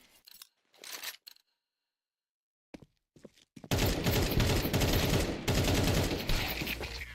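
Gunfire in a video game gunfight during a Berserk League match: a few sparse shots at first, then after a pause a loud, sustained burst of rapid fire that runs to the end.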